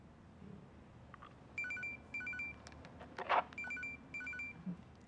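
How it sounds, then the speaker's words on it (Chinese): A telephone rings in a quiet room with repeated electronic ring bursts in a regular on-off pattern, fairly clear and close, with a brief knock or clatter partway through and no one talking. "我去接个电话。"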